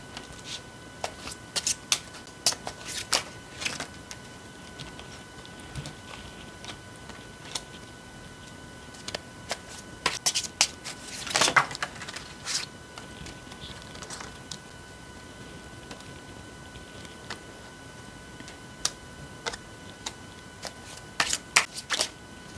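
Tarot cards being shuffled make a steady, close papery riffle with irregular sharp flicks and snaps throughout, with no voices.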